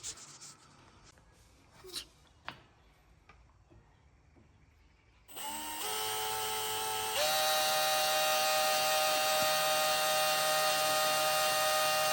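Power drill bores holes in an N5X pinned crank hub, starting after a few quiet handling clicks, with a rising whine that settles into a steady, loud, high-pitched drilling tone.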